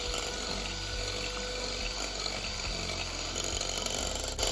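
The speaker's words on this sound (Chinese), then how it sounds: "接着搅拌器用高速打至蛋液起大泡" An electric whisk beats three whole eggs at high speed in a mixing bowl, a steady close-up mechanical whir with a low humming drone and sloshing that holds evenly throughout, with no voices.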